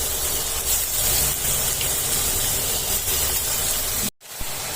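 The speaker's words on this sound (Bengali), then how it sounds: "এবার পনিরটা আমি একটু ঘিয়ের সঙ্গে আর এই পেঁয়াজ ক্যাপসিকামের সঙ্গে ভালো করে নেড়ে নিচ্ছি।" Paneer frying in ghee with onion and capsicum gives a steady, close sizzling hiss that cuts off abruptly near the end, then resumes faintly.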